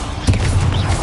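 A Confringo spell blast in a fantasy video game, a single sharp boom with a deep rumbling tail, loud and close.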